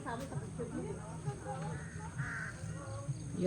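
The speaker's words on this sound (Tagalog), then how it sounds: "Mga inaalagaan yata nila dito yung mga uwak eh" Crows caw now and then over a busy background of chatter and ambient noise, the calls moderately distant and intermittent.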